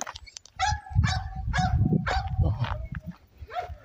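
A dog barks in a rapid series of about six sharp barks outdoors at night, close and fairly loud, with little else around it.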